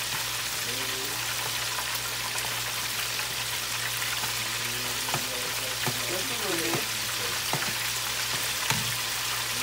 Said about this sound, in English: Chicken is frying.